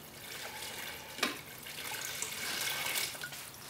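Water poured from a container onto a small patch of artificial grass, a steady broadband splashing and trickling with one brief louder splash near the start, close and continuous with no voices.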